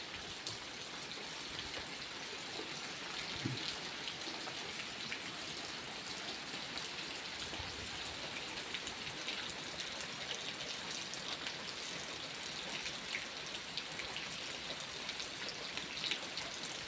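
Soft, steady rain patters on surfaces on a farm, the first rain in many days, a faint continuous hiss with scattered drips and no voices.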